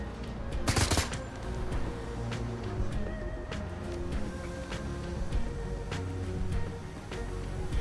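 Scattered video game gunfire from Shadowrun Hong Kong, with one sharp, loud shot early on and then lighter intermittent pops over a steady ambient game soundtrack.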